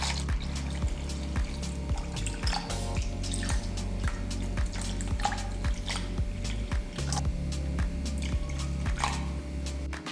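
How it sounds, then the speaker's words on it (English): Water poured into a cooking pot over pork belly, a steady close splashing and trickling stream with small drips, continuing evenly without talk. "Pour enough water to cover it."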